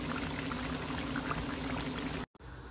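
Steady, dense sizzling and crackling of food frying in hot oil, close up, continuous until a brief cut near the end.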